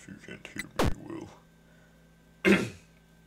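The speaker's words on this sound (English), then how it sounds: "sorry for clearing my throat a lot" A person clears their throat twice, first a short sharp rasp and later a louder, fuller clearing, with quiet pauses between, close to the microphone.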